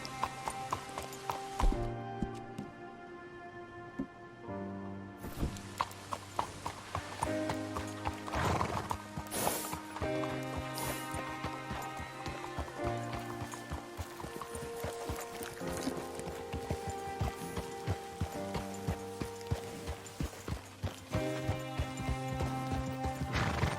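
A horse in the Red Dead Redemption 2 video game gallops with a steady clip-clop of hooves and whinnies, loud and close over a swelling musical score, with almost no talk.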